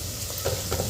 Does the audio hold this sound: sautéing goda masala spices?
yes